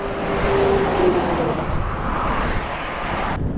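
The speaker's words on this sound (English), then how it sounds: "lot of traffic" Steady road traffic noise on a highway route near Hosmer Bridge on the way to Fernie, heard from a bicycle: a continuous broad wash of passing vehicles, fairly loud and close throughout, with wind mixed in.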